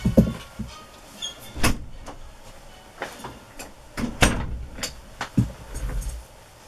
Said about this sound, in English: I can shut the door.